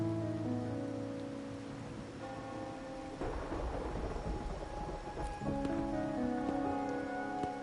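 Steady in-game rain from Wuthering Waves falls in a soft continuous wash beneath layered ambient music, with a denser, noisier burst of rainfall or distant rumble swelling in the middle before easing back; no one speaks.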